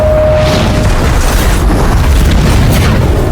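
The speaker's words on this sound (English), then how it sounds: "The explosion was instant and violent." A snapped gas line in a film blows up with one loud, sustained boom that rolls on for several seconds as a dense wall of rumble and debris, with no speech over it.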